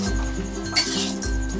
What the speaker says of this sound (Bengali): দেওয়ার পর আমি খুব ভালো করে এবারে নেড়ে নেব।